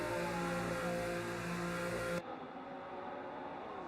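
A race car in an F1 video game, at the Belgian GP, drones with a steady engine whine under pit-lane limiting, then cuts off abruptly partway through, leaving quieter ambient noise.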